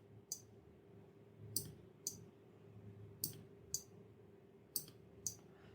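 An HCW-M421 adjustable digital timer relay clicks on and off, seven sharp close clicks in uneven pairs over a low steady hum, with no talking.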